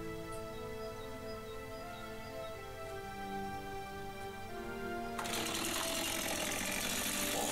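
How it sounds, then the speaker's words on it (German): A power tool cuts into a lid: a steady tonal whine runs for about five seconds, then a much louder, broadband grinding burst of cutting sets in near the mic and lasts to the end. "So, jetzt schneide ich das Ding wieder ein bisschen an, weil ich nämlich jetzt den Deckel oben etwas abflache."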